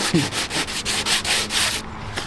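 Wood being sanded by hand, a steady run of rough rubbing strokes up close, each stroke a broad scratchy swish, continuing for a couple of seconds before a brief pause and one final stroke.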